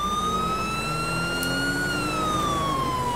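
Wailing ambulance siren in GTA V, a loud continuous rising and falling tone over low engine rumble, sounding close throughout.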